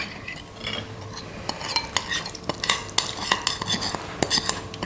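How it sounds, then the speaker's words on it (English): Seasoning being stirred into cooked sushi rice in a bowl, a busy run of close scraping and clacking strokes from a utensil against the bowl, irregular and continuous, no speech. "stir thoroughly so the seasoning gets on the rice really well"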